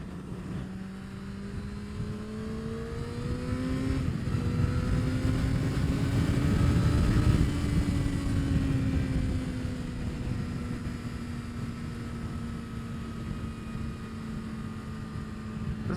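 A 2025 Kawasaki ZX6R on the road, its engine note climbing as it accelerates, peaking mid-way, then settling into a steady drone under wind rush, with no talking.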